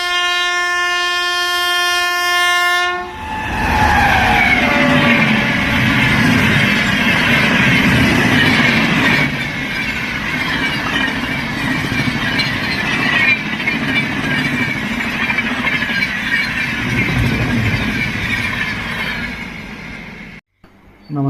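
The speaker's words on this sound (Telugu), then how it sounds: "నైట్ టైము ట్రైన్స్ ఎంత స్పీడ్గా వెళ్తున్నాయో" A train at night blares a long multi-tone horn, then thunders past at speed with a loud, sustained rumble and wheel clatter that fades away near the end.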